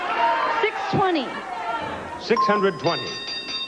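A game show bell rings on a 1977 Price Is Right bidding round, a bright sustained ding sounding over a lively studio with a host and contestants talking.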